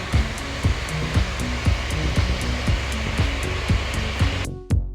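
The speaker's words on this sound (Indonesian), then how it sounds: "Berisik karena ada ini penggilingan padi, mesinnya lagi aktif, mengganggu banget itu sebenarnya" Rice milling machine running behind a street scene, a steady loud whirring drone with a regular thumping beat roughly every third of a second, cutting out abruptly near the end.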